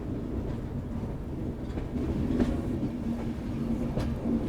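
The Uttar Sampark Kranti train, route 12445, departs Udhampur railway station with a low, steady rumble and rolling clatter of wagons, a faint whine and occasional knocks, heard from on board.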